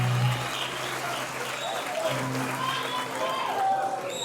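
A church congregation claps together, a faint, soft patter heard under a voice and tonal background sounds.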